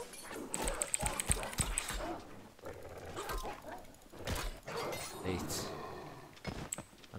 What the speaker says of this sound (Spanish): Este perrito lo vamos a tener que matar.